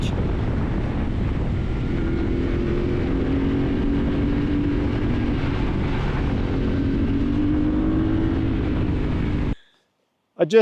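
A motorcycle on Dunlop Trailmax Raid 50/50 adventure tires rolls over a grassy gravel track, its engine droning steadily under heavy wind buffeting for most of the run before cutting to near silence at the end.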